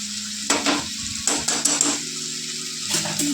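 Grated ginger and masala frying in oil for a sonakhorke fish and onion dish, giving a steady close sizzle with bursts of stirring and scraping from a spoon against the pan.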